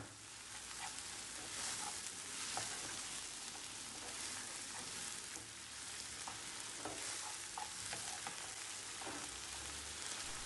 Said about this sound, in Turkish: Şimdi hemen soğanları karıştırıyorum bu şekilde.